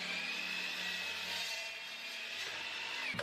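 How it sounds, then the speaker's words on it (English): A miter saw cuts exotic wood to rough length, producing a continuous, fairly quiet high whine that ends in a sharp knock at the close. "So we're gonna start cutting to rough length all the pieces on the miter saw."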